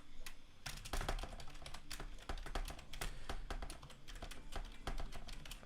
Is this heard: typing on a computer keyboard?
yes